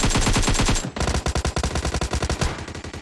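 Automatic weapon fire in PUBG Mobile during a squad match: close, loud rapid bursts of evenly spaced shots, broken by a short pause before another rattling volley.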